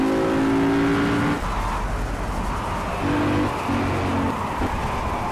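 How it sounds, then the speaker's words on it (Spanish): An Audi R8 in Project Cars GOTY on PS4 slides through a skid: a strained engine note cuts into a broad, hissing tire scrub, then the engine returns in short bursts. "Derrapa mucho también"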